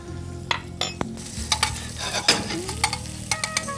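Chopped garlic sautés lightly in a hot pan: a soft, even sizzle runs underneath while a utensil stirs with several sharp clicks and scrapes against the metal, close by and with no talking.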